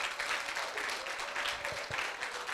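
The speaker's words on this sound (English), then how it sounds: "Please, let's give WELA 2024 a round of applause." An audience at the WELA 2024 CEIBS alumni masterclass applauds, a steady, fairly faint wash of clapping lasting a few seconds with no voices over it.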